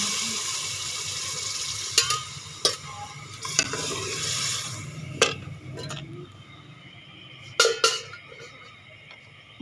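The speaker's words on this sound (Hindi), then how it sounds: "अब हम इसमें पानी ऐड कर देते हैं।" Water poured into a hot pan of frying potatoes and tinda gourd for a thin curry, giving a steady sizzle with clinking spoon scrapes and stirring knocks throughout.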